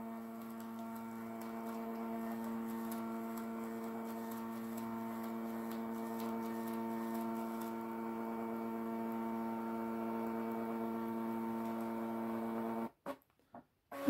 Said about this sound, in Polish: Zobaczcie, jak ta drukarka sobie radzi właśnie z drukowaniem.